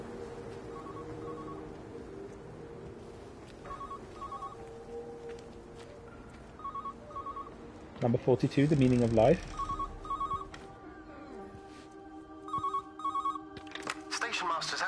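A telephone rings in a station master's house in the game Everybody's Gone to the Rapture, with repeated pairs of bell rings in a steady rhythm under a voice and ambient sound.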